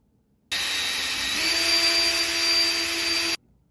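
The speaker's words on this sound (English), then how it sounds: "we're gonna drill holes with 3/16 of a drill in size" A power drill with a 3/16-inch bit whirs steadily for about three seconds, drilling a hole in a metal electrical panel cabinet, its pitch rising slightly as it bites in, then stops abruptly.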